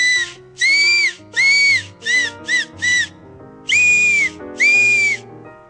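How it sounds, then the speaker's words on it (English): Acorn cap whistle blown between the thumbs: eight loud, shrill, piercing blasts of varying length, close up with short gaps between them, alone without talk. "This is an acorn cap whistle."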